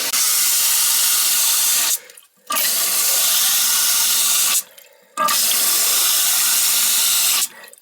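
Water rushing loudly through a toilet with a filling fault, coming in three long bursts with abrupt cutoffs and short gaps of near silence between them.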